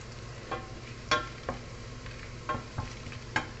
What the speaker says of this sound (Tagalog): Fried garlic.